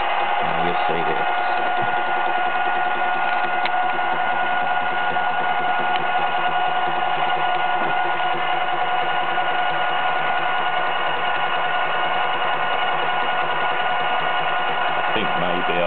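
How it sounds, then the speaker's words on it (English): A milling cutter cuts teeth into a Delrin gear blank, giving a steady, loud mechanical whine and hum with faint ticks and knocks that runs unbroken throughout. "I'll start the milling cutter up and set my cutter going."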